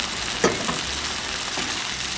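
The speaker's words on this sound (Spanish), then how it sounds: "Ahora voy a esperar que la salchicha se me cosa también" Sausage frying in a pan for frijoles borrachos, a steady close crackling sizzle throughout with a brief louder pop near the start.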